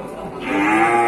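A cow at the Randudongkal livestock market in Pemalang, Central Java, where Simmental and Limousin calves are sold, lets out one loud, close moo lasting about a second.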